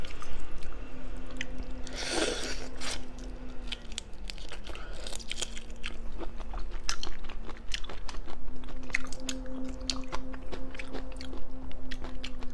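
Lemon appetizer shrimp eaten in a close-miked seafood mukbang, with steady wet biting, crunching and chewing, sharp crisp crackles repeating throughout and a faint tonal hum underneath.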